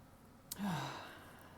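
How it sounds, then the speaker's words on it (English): A single deep breath drawn in and let out slowly during a calm mindfulness moment, soft and close, with a brief sharp intake followed by a long gentle exhale and no talk. "So I take a nice deep breath"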